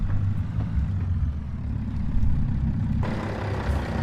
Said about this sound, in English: Golly, this truck is loud.